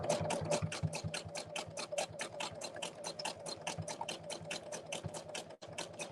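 A sewing machine zigzag stitching between the coils of fabric rope, rapid even needle clatter, close and steady, running continuously with one brief break near the end and no talk.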